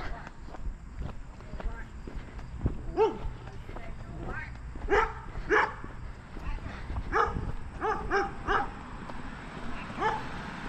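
A dog barks in a string of sharp, repeated yips during a neighborhood walk, moderately close, mixed with footsteps and some talking.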